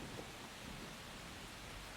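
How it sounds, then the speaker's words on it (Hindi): Steady rain pours down in an even, continuous hiss that stays constant throughout, with a faint low rumble underneath and no voices. "बारिश हो रही है"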